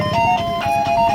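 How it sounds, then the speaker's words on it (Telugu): An ice cream cart at a village fair blares a loud, close, repeating electronic jingle with bright tonal notes in a quick looping pattern, playing alone. "ఈ ఐస్ క్రీమ్ బండి మేము వెళ్తున్న లైనే వస్తుందండి తల వాచిపోతుందండి బాబోయ్ ఆ సౌండ్కి అసలు"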